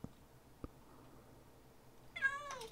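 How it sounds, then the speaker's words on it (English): Black cat in the video game PeterCraft gives a single short, clear meow near the end, following two faint clicks over quiet background. "Oh, little black cat."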